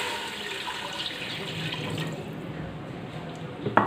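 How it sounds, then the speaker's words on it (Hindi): Water pours and splashes steadily into a pressure cooker holding mutton, a continuous rushing flow that ends with a faint clink. "साथ ही मैं इसमें पानी शामिल कर रही हूँ।"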